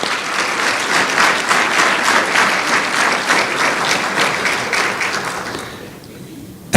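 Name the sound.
audience applause for teachers at a scholarship banquet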